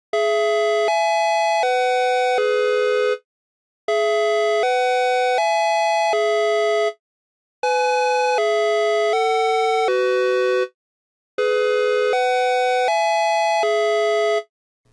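SiraTone dual tone Westminster chime siren playing a synthetic tonal sequence, four loud repeated phrases of stepped pitch notes separated by short silences, dry and alone.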